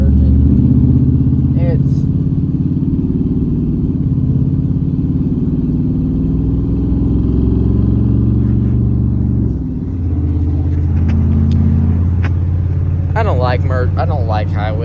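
A 1990 Ford F-250 single cab truck merging onto a highway, its engine droning low and steady from inside the cab, briefly dipping before resuming, with a voice talking over it.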